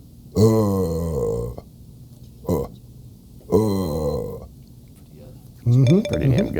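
A voices deer calls in turn, imitating a buck grunt, a bleat and a snort wheeze with throaty, burp-like bursts separated by short pauses, close and loud.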